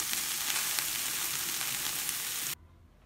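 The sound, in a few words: cordons bleus with minced meat cooking in a pan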